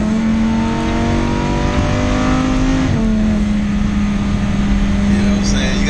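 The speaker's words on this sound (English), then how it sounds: "I'm out here playing with this Lamborghini." A Lamborghini engine holds a steady loud idle-to-mid rev with strong harmonic tones, dipping briefly near the middle before settling, close by and continuous.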